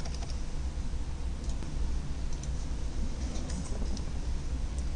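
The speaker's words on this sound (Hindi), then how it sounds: "प्रिविलेज मोड पे जाने के लिए आप एग्जिट टाइप करेंगे" Typing on a computer keyboard while entering router commands, a steady soft patter of key clicks running throughout over a low background hum, fairly close and moderately loud.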